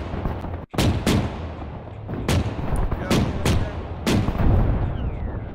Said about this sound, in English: Another hit to the turret.